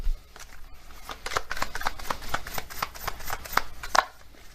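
A deck of oracle cards is shuffled by hand in a quick run of soft riffling, slapping taps, close and moderately quiet, with no voice.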